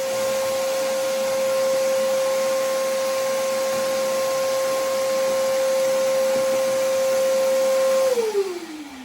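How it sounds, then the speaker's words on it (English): A shop vac runs steadily and loud with a constant whining drone, then winds down as it is switched off at the end, during salvage of an old model railroad layout. "Here's where a shop vac really comes in handy."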